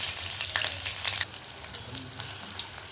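Ajwain leaf fritters coated in a semolina and gram flour batter fry in oil in a wok, giving a loud, steady sizzle with stirring scrapes that eases to a softer bubbling partway through. No one speaks.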